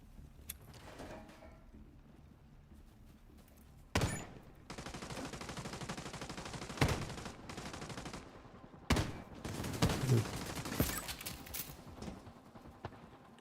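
Video game gunfire as an enemy is shot, with bursts of shots and loud bangs breaking out repeatedly over a clattering rhythmic background, no talking.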